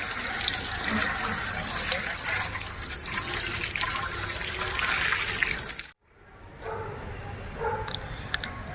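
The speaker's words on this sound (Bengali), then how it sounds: "এখন এই টবগুলোতে জল দিয়ে নেব।" Water poured into sunflower seed pots in a garden, a steady splashing wash for about six seconds that cuts off abruptly, followed by quieter trickling and faint background sounds, with a dog barking somewhere.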